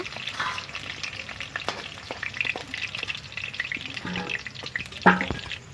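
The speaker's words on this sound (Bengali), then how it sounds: "আমাদের তেলটা গরম হয়ে গেছে, আমি আলুগুলো ভেজে নেবো" Oil sizzles and crackles steadily in a pan as potatoes fry, with occasional stirring scrapes and clinks, close and moderately quiet.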